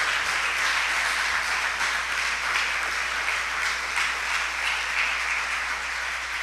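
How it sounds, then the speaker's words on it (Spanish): A church congregation applauds loudly in praise of God, a dense, even wash of clapping hands that continues unbroken throughout. "Aplauda fuerte la grandeza de nuestro Dios"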